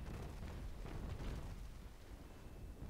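Naval Action ship cannon fire: a dull, far-off rumbling boom with a rough, bassy tail that rolls on for a few seconds, no voices over it.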